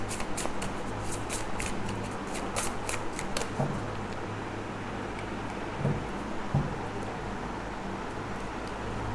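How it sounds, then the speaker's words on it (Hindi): A deck of tarot cards is shuffled and drawn from, giving steady close riffling and flicking with sharp card snaps near the start, over a constant low background hum and no voices. "Will take 3 cards from this deck also."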